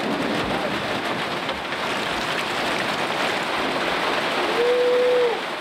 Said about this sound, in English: But eventually, the rains passed.